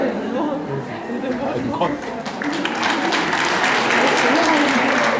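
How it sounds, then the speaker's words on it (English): Sustained applause from a convention audience, growing fuller and louder toward the end, with crowd chatter mixed in underneath. "The applause is from Latvia"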